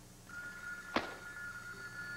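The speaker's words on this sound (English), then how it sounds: "I don't suppose you'd be willing to answer that phone?" A telephone rings on a 1989 television soap opera set, a steady electronic ring under room tone interrupted by a brief sharp knock or thump.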